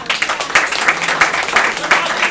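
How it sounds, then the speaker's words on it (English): Close, loud clapping at a panel event, with individual sharp claps standing out in an uneven rhythm, suggesting a small group applauding. "I want to just give a round of applause for you all"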